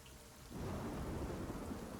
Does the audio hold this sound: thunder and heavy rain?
yes